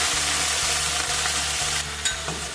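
Garlic and ginger paste fries steadily in hot oil with chopped green chilli, the sizzle constant and close while a spoon scrapes and stirs in a slow regular rhythm.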